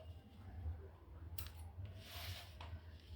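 Scissors snip a couple of short notches into the centre of cut shirt fabric, giving crisp brief cuts over a quiet, low-humming room.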